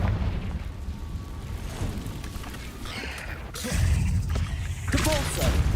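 A Confringo fire spell in Hogwarts Legacy bursts into booming explosions during a hectic magical duel, with repeated loud blasts and crackling pops layered over steady game noise and spoken voices.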